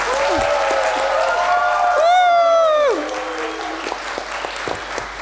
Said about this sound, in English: So I want you to do a huge hurrah and clap like crazy for M&G and for Jane and